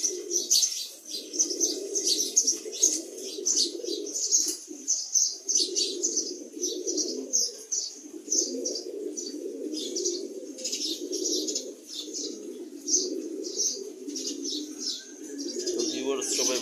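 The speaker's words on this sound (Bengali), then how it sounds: "আজকে শুধু মাদি কবুতরগুলো ছাড়ছি" Female pigeons cooing in a home loft, soft repeated low coos in steady rounds with high chirps and occasional wing flutters mixed in, no talk.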